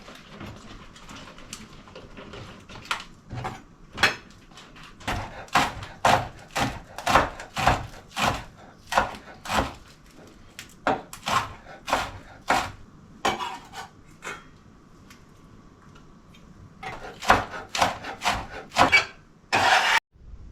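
Onions are chopped on a cutting board, a string of sharp, close knife strikes in uneven bursts with short pauses between runs, loud and alone.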